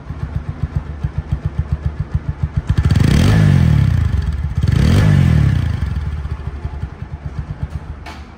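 A TVS 4V motorcycle engine runs close by, ticking with a rapid even idle pulse, then swells into two loud revs before settling back to idle.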